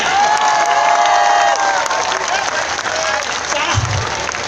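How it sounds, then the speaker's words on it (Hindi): A crowd at a Hindi poetry gathering (kavi sammelan) in Khurai breaks into loud, dense clapping, with some cheering voices mixed in and a low thump near the end. "अब दायां हाथ भी उठा लें और इसे तालियों में तब्दील कर दें।"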